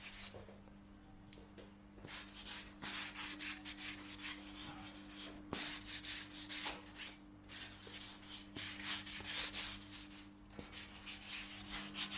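Steady scratchy rubbing of sandpaper on a wooden stair railing, repeated back-and-forth strokes at close range with a low background hum.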